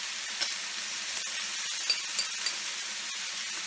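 Korean beef short ribs with marinade sizzle in a pan, giving a bright, even hiss that runs throughout. A few small crackles and pops stand out above it, close up and with no talk.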